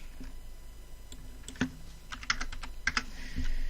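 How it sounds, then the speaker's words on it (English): Keys tapped on a computer keyboard during settings entry, a quick irregular run of light clicks building to a denser burst near the end, close and clear with no voices. "so I'm going to type that in"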